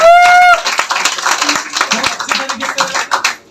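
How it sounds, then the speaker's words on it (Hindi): Audience clapping at a motivational success seminar in India, a fast, crisp round of hand claps following a short tonal beep, loud and close, fading at the end. "सर के लिए भी एक बार जोरदार तालियां"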